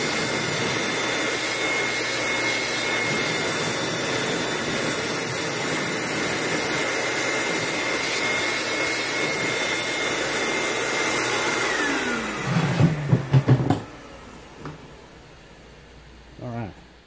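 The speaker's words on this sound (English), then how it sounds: "you'll need 1¼ inches adapter or 1¼ inches shop vac" A 1¼-inch shop vac roars at a steady, loud pitch for about twelve seconds, then shuts off and winds down, leaving only quieter handling sounds.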